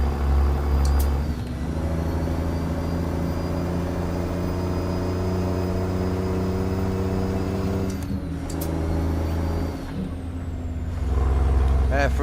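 A Detroit DD60 14-litre truck engine in American Truck Simulator drones steadily at a loud, even pitch, with brief hissing air bursts and a shift in tone partway through.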